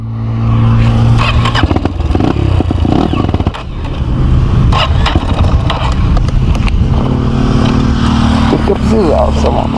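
A Honda CRF dirt bike engine runs close by, its motor droning and revving while people talk over it.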